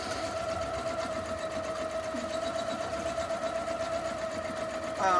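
A Janome MC230E embroidery machine runs a steady, fast mechanical whir with a rhythmic needle chatter while it stitches an in-the-hoop owl stuffy appliqué. It holds constant and close, and a brief louder bump comes at the end.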